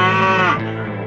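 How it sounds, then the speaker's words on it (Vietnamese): A mother buffalo in the African wild cries out in distress with one loud, close, drawn-out bellow whose pitch sinks toward the end. "trâu mẹ cất lên tiếng kêu thất thanh"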